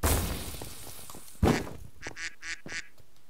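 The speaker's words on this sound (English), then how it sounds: "who's quacking?" Duck quacks in a Minecraft game session: a loud burst of noise at the start, then a sharp hit, followed by a quick run of four nasal quacks close up, fairly clear with little else around.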